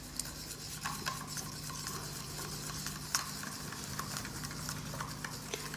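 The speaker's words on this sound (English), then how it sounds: "I'll give that a good stir and we'll mix it in with the sand." A binder mixture for foundry sand is stirred in a container, making a faint, continuous scraping and swishing with a few small taps.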